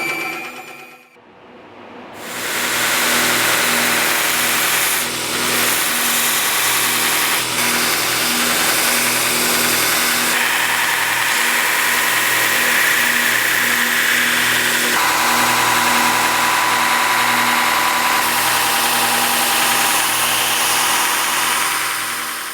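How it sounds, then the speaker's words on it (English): A belt grinder starts up with a brief rising whine, then runs with a loud, steady motorized drone while knife handle scales are ground to profile for a bushcraft knife. Subtle shifts in pitch come as the material presses against the belt. "Let's get them to the grinder and grind them down to the profile."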